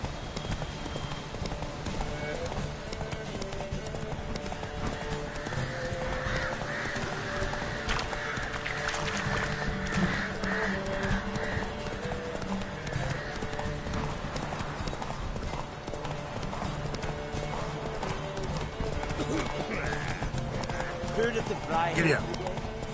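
A horse gallops in The Witcher 3: Wild Hunt, fast continuous hoofbeats in a close rhythmic clip-clop running throughout beneath background music and occasional speech.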